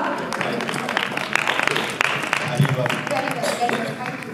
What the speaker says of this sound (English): So round of applause to Gaurav Bhatia.